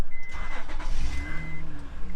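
A car engine is started nearby during an oil change, with a short burst of starter cranking that catches and settles into a steady, loud running note with no talking.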